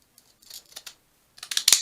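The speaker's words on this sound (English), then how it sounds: "I am just going to use these little decorative scissors and cut this" Small decorative craft scissors cut a sheet of paper in half: a few quiet snips, then a louder burst of rapid, crisp cuts near the end, close and with no talking.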